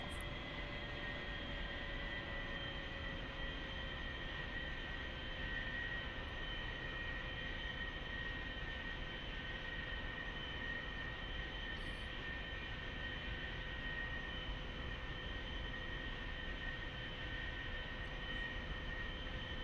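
A simulated A-4E jet engine in the DCS World game runs on the runway, a steady, unbroken whine over a broad, even roar, holding constant with no voices.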